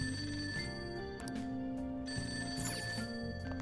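A phone ringing in the video game Persona 5, a steady electronic ring tone heard alone over a continuous layered game music background, loud and close throughout.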